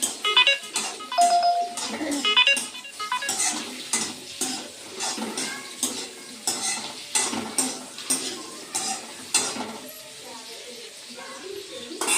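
Chopped ridge gourd being stirred into a ground chutney in a pan, with repeated scraping and mixing strokes, light sizzling and clinks of a spoon against the pan, close and steady throughout.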